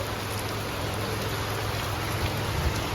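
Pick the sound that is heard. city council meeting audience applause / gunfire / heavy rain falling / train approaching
heavy rain falling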